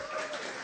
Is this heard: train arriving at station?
no